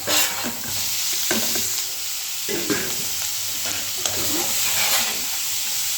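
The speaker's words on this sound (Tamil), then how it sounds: "இந்த நெல்லிக்காயை உப்பு நெல்லிக்காய் சேர்ந்தாப்புல இப்படியே கொட்டிடுவோம்" Amla gooseberries tipped into a frying pan with curry leaves, sizzling steadily while a spoon stirs and scrapes in repeated strokes, close up with no talking.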